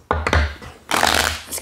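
Tarot cards being shuffled by hand, a few quick riffling bursts and soft slaps close to the microphone, with a person talking intermittently around them.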